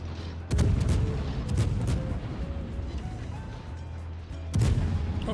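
Heavy naval guns on the Smolensk warship in World of Warships fire in loud booming salvos, one right at the start and another near the end, with rumbling game ambience and faint tones between them.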